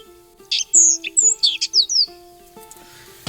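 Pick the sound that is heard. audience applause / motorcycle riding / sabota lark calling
sabota lark calling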